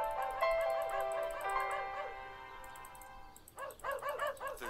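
A dog whimpers in drawn-out, high tonal cries, then breaks into a quick run of short yips and barks, close and fairly loud with no voices.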